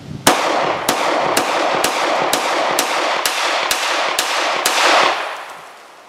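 A Chinese Tu-711 C96 Mauser pistol fires about ten sharp, loud shots from an extended magazine at an outdoor range, in a fast, fairly even rhythm with short echoes trailing each report.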